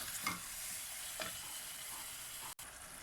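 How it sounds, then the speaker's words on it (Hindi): Onion, garlic and ginger frying in a pan for degi palak gosht, a faint, even sizzle with two soft stirring scrapes and a brief dropout near the end, no talk. "थोड़ा सा मिक्स करके प्याज और लहसुन अदरक के साथ इसका कलर चेंज होने तक इसको हम फ्राई करेंगे।"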